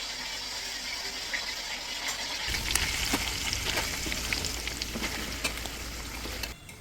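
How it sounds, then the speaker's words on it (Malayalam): Chicken pieces for pickle dropped into hot oil, the quiet background bursting at once into a dense, steady sizzle with scattered pops, then cutting off abruptly near the end. "അപ്പൊ ഞാൻ എണ്ണയിലോട്ട് ചിക്കൻ ഇടയാണ്."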